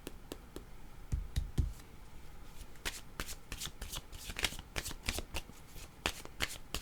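A deck of cards being handled and swapped during a tarot-style reading, producing close, crisp riffling, shuffling and flicking clicks in irregular bursts with no talk.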